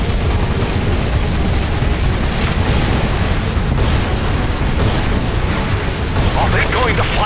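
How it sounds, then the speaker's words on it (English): Cruise missile impact in the video game Earth Defense Force: Iron Rain, a loud sustained rumbling explosion with dense low roar and crackling debris throughout, with game voices speaking over it. "Cruise missile making impact now."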